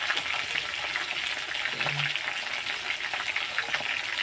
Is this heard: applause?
no